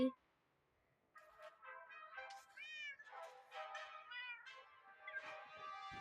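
Several cat meows in a Minecraft-style video game in quick succession, high and tonal, repeated over a few seconds with slightly varying pitch, fairly clear and close.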